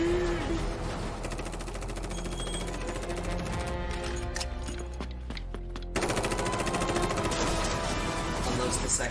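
Rifle gunfire in a Full Metal Panic! Invisible Victory anime battle, with a clip emptied into a vehicle: dense, rapid bursts of shots run almost continuously over a loud background, with a brief thinning midway before the firing resumes.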